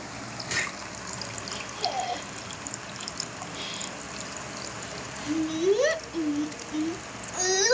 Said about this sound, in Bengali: এই যে রস হয়ে গেছে, একটু একটু দিদি ঢেলে।